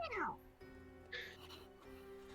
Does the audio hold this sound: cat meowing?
yes